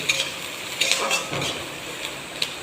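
Onion and green chili fry in a pan for flattened rice pulao, a soft sizzle under sharp spatula clinks and scrapes against the metal pan, close and intermittent.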